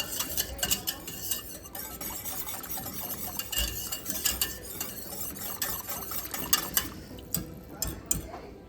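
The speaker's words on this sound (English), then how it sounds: "Add your cornstarch slurry in and whisk, bring to a boil." Cornstarch slurry being whisked into teriyaki sauce in a pot for slow cooker teriyaki chicken, a steady scraping and clinking of the whisk against the pot with sharper metallic ticks throughout, close and moderately loud, no talking.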